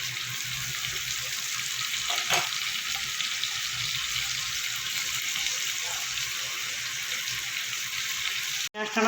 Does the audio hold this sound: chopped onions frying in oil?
yes